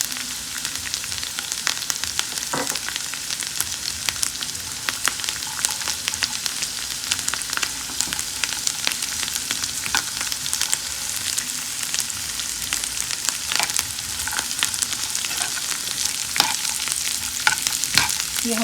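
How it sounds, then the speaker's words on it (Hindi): Dry fruits and pistachios sizzle in hot fat for sheer khurma, a steady crackling hiss broken by frequent sharp clicks and scrapes of a spoon stirring the pan, continuous and close throughout with no talking. "ये हम फ्राई कर रहे हैं ड्राई फ्रूट जो हम शीर खुरमे में डालेंगे"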